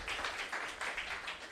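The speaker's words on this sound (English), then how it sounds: "Let's give ourselves a round of applause." An audience at the MEST Africa Challenge 2022 grand finale gives a steady round of applause, a dense wash of many hands clapping together in a room for a couple of seconds.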